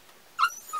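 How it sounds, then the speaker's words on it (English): A dog gives a single short, high-pitched whine, close and fairly loud, followed by a fainter trailing whimper. "excuse the dog, but that's Midnight whinging"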